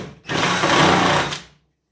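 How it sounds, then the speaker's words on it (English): Drill bit enlarging a pilot hole in the body of a BMW E46 for a subframe reinforcement bolt: one loud, steady whirring burst of about a second and a half, close by, then cutting off to silence. "We have this drill bit right here, which is going to enlarge the hole"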